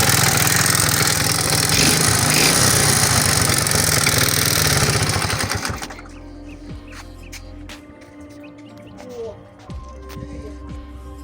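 A Delta 72cc moped engine idles loudly and steadily with a buzzy, throbbing drone, then cuts out abruptly partway through, leaving faint background noise, light clicks and distant birds.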